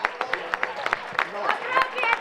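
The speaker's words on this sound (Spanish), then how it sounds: "un fuerte aplauso para esos chicos de Villanueva que han venido hasta aquí." Scattered clapping for a visiting youth football team from Villanueva at a Pozo Blanco sports awards night, the claps ragged and uneven, with voices and crowd chatter running underneath.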